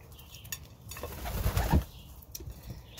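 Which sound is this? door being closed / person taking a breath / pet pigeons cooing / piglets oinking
pet pigeons cooing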